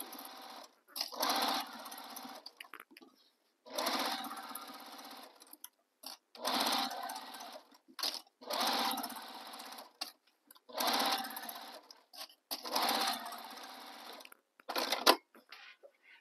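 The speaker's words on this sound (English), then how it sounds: "we're going to sew the bottom with the seam allowance given in the pattern" A sewing machine stitches the bottom seam of a tote bag in six bursts of a few seconds each, separated by short pauses, close and fairly quiet.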